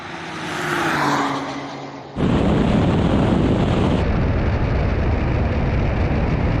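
Drag race between a Honda NSX hybrid, a Nissan GT-R Nismo and a Porsche 911 Turbo S: a rising engine roar builds, then a sudden loud, steady full-throttle rush of engines and wind noise takes over and holds to the end.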